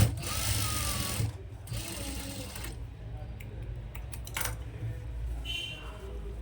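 A sewing machine runs steadily, stitching the pocket of a chudidar pant with a continuous mechanical whir, pausing briefly and restarting, close up with faint room noise.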